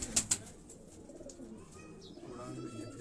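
A pearl-marked high-flying pigeon from a Quetta loft coos in low, soft murmurs, with a couple of sharp clicks at the start and quiet background noise.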